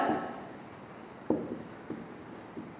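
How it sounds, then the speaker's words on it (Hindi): Writing on a board in a classroom, heard as several short scratchy strokes close by in a quiet room. "यहाँ इस तरफ लिखती हूँ मैं"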